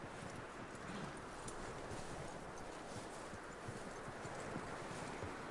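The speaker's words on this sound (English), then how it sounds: "That looks like a decent horse." Horse hooves clip-clop at a steady walking pace in Red Dead Redemption 2, soft rhythmic thuds over a constant background hiss with no talk.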